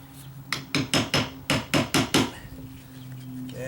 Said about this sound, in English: I could take a little scratch awl, or in this case it's an ice pick I got.